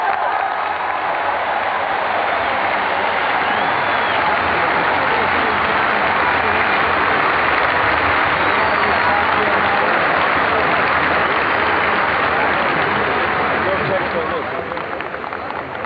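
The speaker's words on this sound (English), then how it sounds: "A great deal of applauding here" A huge outdoor crowd at the March on Washington applauds and roars in a dense, continuous wall of sound that stays loud and unbroken throughout.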